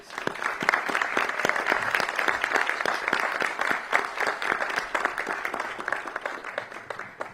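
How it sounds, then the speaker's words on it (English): Sustained audience applause for micro grant winners at a Houston city event, a dense steady wash of many hands clapping at close range, even in level throughout with no talk over it. "Please join me and up here, the leaders up here, in giving them a round of applause."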